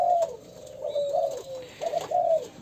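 A pair of Thai black-patterned pigeons coo close by in a steady run of soft, low, rolling calls with short pauses between them, no talking.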